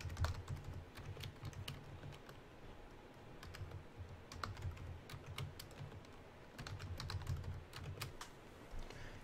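Password being typed on a computer keyboard during MySQL setup on Windows 7, a steady run of quiet, close key clicks with brief pauses, no talking.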